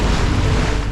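Steady broadband roar of building ocean waves and wind around a sailboat on a heavy North Atlantic crossing, loud and continuous with no break.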